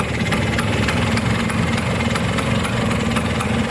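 Vintage Vespa Super 75 scooter with its original engine, running at a steady idle, a loud continuous mid-pitched putter with fast regular pulses, close by and with no talk over it.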